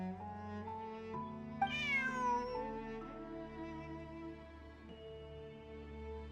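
Bonnie, Pierre's cat in the video game Genshin Impact, lets out several drawn-out meows, one climbing high and sliding back down, over a quiet sustained background tone.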